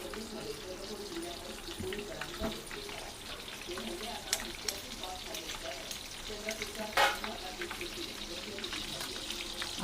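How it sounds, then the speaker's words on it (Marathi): Stuffed boiled eggs dropped one by one into hot oil in a home kitchen, a soft steady sizzle with occasional clinks and stirring knocks, fairly faint and low in level. "आपण आता ही अंडी एक एक भरलेली अंडी तेलात सोडूया"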